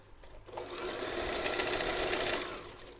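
A sewing machine stitches a fold along a salwar, its fast, steady whirring mechanical hum rising after a brief pause and holding close and clear for a few seconds.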